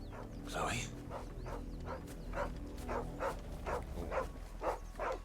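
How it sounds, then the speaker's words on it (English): A dog in Final Fantasy XVI gives a string of short whimpers and yips, evenly spaced and fairly faint, over a low ambient hum. "Dog."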